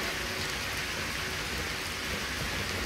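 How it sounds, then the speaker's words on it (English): Steady rain falling in the video game Skyrim, a dense continuous hiss of drops filling the scene at even loudness from start to finish, with no voices. "Camilla, it's really raining."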